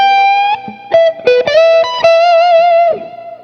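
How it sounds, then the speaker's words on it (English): A Harley Benton electric guitar with a split humbucker plays through an amp, giving a loud, mildly driven lead line of sustained bent notes and short picked phrases, alone with no voices. "you can definitely hear it doesn't drive the amp into that full distortion"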